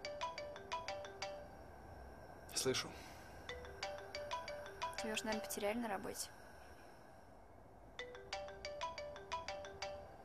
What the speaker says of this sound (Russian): Тебе звонят.